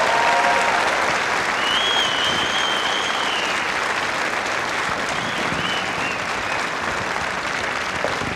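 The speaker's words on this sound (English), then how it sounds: "How about a round of applause?" Sustained audience applause at a high school NJROTC inspection and award ceremony, loud and dense clapping filling the room steadily for several seconds, with faint whistles rising above it.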